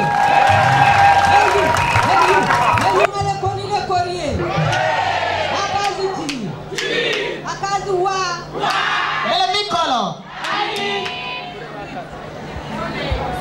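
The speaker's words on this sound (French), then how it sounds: "Je vous demande d'applaudir très fort pour le monde du bureau politique" A large crowd at a political support march for President Ali Bongo Ondimba in Lékoni, Gabon, claps and cheers loudly and continuously, with shouts, whoops and voices mixed through the dense, sustained roar.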